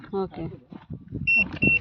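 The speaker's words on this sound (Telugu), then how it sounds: "సౌండ్ వస్తుంది, బీప్ సౌండ్, అది ఆన్ అయినట్టు ట్రాన్స్మిటర్" A Bluetooth transmitter powering on gives two short, clear electronic beeps near the end, heard under ongoing speech.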